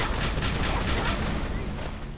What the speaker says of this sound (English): Okay, so here's the gamma gun.